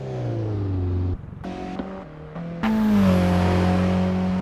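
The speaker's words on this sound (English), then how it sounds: "Did you hear that engine start up?" A car engine in a racing simulator video game starts up with a stuttering crank, idles briefly, then revs up into a loud steady drone, close and clear with no talking.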